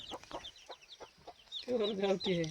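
Gavran country hens on a farm cluck in short, repeated calls, with louder, fuller clucking and higher chirps building toward the end, close to the listener.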